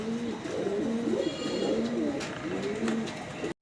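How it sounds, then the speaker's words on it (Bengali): Rajshahi Giribaz pigeons, maxi colour, cooing in repeated low rolling phrases, fairly close and steady, with no talk, before a brief cutout at the end. "এই কার্টুনে করে 2 জোড়া কবুতর পাঠাই দিচ্ছি, চলে যাবে গোপালগঞ্জ।"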